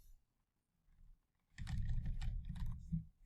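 Quick keystrokes clatter on a computer keyboard as a software name is typed, a short burst of close, rapid clicks after a near-silent pause.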